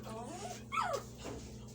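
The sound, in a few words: dog whimpering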